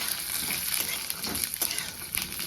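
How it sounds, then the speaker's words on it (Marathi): Peanuts, dried coconut and sesame seeds roasting in oil in a pan for a garlic chutney, giving a steady close crackling sizzle with faint stirring scrapes throughout, no voices. "शेंगा खोबरं छान असं भाजायला लागले"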